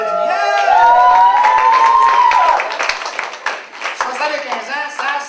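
Congregation at a Pentecostal church's 75th anniversary celebration clapping and cheering loudly, with shouts and a sustained whoop over dense applause that gradually thins toward the end.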